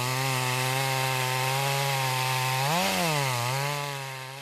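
A chainsaw works into a rain-wet tree, its loud steady whine dipping briefly in pitch as the chain bogs and slips, then recovering and tapering slightly at the end, no voices.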